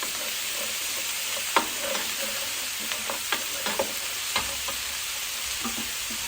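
Fried onion and garlic taqliya being stirred in a pan, with a soft steady sizzle under a handful of sharp spoon scrapes and clicks spread irregularly across the stretch.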